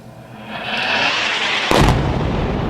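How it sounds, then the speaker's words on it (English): A massive explosion during a night bombardment in Gaza: a rising rumble, then a sudden loud blast that leaves a heavy, lingering roar. "Massive explosions all across Gaza as flares lit up the night sky"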